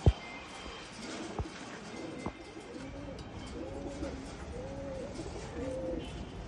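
Soft, repeated cooing of a female fantail pigeon in a cage, in a low rolling rhythm, with a couple of sharp knocks at the start over a faint background hum.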